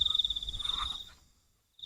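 Crickets chirp in a fast, pulsing trill that fades into silence, then starts again near the end, outdoors at night.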